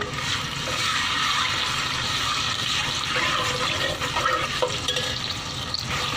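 Garlic ginger paste sizzles as it is stirred in hot cooking oil in a pot, a steady broadband fry close up, with a few scraping stir movements near the end and no voices.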